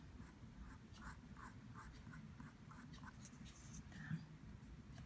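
A Copic marker colors on paper in a quiet close-up, making a series of soft, rhythmic scratchy strokes roughly every half second.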